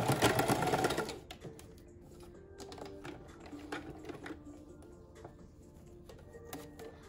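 A sewing machine backstitches a fabric face mask, a loud dense burst of stitching for the first second, then quieter intermittent ticks and short clicking bursts from the machine.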